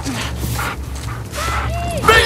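A dog in the video game The Last of Us Part II pants and gives short yips and whimpers in the middle of combat noise, with a person's voice talking over it.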